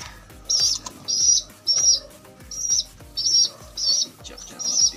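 Pigeons flap their wings in short repeated bursts, about seven flurries of close wingbeats spaced roughly evenly, mixed with thin chirping calls and soft low thumps.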